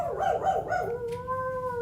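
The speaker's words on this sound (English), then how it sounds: "All of a sudden you hear the hound dogs." Hound dogs howling nearby, several wavering cries at first, then one long sustained howl that holds to the end, with no voices.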